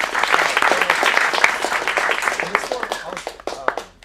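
A round of applause at a teen acting showcase in a Phoenix studio, brisk clapping from a small audience fading over about four seconds, with voices mixed in.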